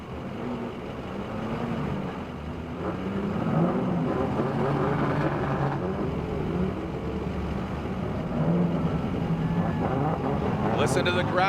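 Drift car engines rumble and rev at a Formula Drift event, swelling and fading as cars move past at moderate distance, while a voice talks over the steady motor noise.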